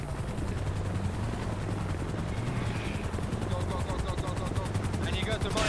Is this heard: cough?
no